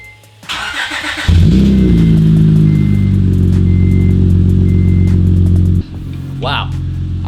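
Acura TL with its exhaust pipes deleted starts with a short crank, then settles into a loud, raspy, close-up drone that steps down slightly near the end, with a brief chirp in the background.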